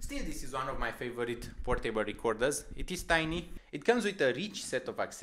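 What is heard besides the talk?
No distinct noise like a dog, phone or traffic.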